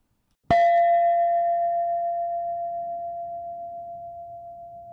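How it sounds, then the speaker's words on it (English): A single strike on a hand-cast bell rings out loud and clear, then its pure tone hangs and slowly fades over several seconds with no other sound. "My bell can now sometimes be heard tolling at midnight on New Year's Eve and on other important"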